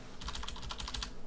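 Quick burst of close keyboard typing on a computer, a rapid run of crisp key clicks lasting about a second with no talking.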